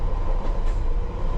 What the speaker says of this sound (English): There's a choo-choo.